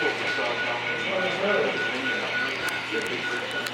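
The CSX 911 model train rolls past on a club layout, giving a soft, steady running hum with a faint whine and light track clicks, while voices murmur in a busy room.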